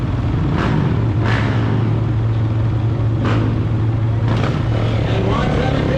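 KTM motorcycle of rider Juan Salvateria leaving the start of the Baja 1000 desert race: a steady loud engine rumble fills the whole stretch, rising in a few brief surges, with a voice talking over it.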